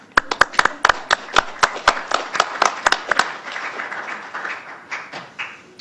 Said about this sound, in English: Yeah, it's okay to clap.